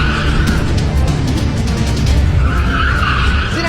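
A car braking hard and skidding, a loud continuous tyre screech and rumbling road noise throughout, with a rising squeal near the end.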